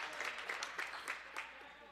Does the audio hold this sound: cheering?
yes